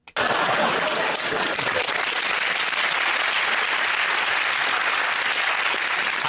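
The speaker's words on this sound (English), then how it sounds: "I think a few of the men started clapping before the end of that joke" A studio audience at a comedy panel show bursts into loud, sustained applause and clapping that starts abruptly and holds steady, dense and close, throughout.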